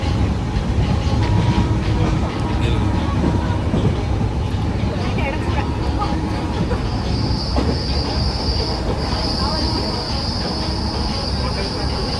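A moving train rumbles steadily from inside a carriage on a trip to Kochi, with rattling and a high wheel squeal rising partway through.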